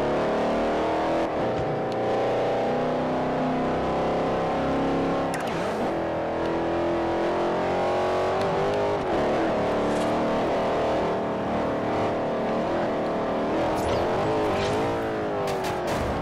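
Car engine driving and revving in the video game Forza Horizon, a loud continuous roar rising and falling through gear changes, with brief dips where it shifts.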